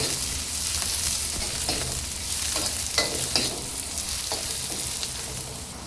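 Chopped onions sautéing in a pan for homemade makronia, a steady soft sizzle with a few sharp stirring scrapes and clicks, close and on its own without voices.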